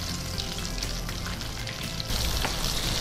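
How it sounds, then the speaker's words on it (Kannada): Chicken popcorn deep fries in hot oil until golden brown, a constant bubbling sizzle heard close, growing a little louder in the last second. "ಡೀಪ್ ಫ್ರೈ ಒಂದು ಗೋಲ್ಡನ್ ಬ್ರೌನ್ ಬರೋ ತನಕ."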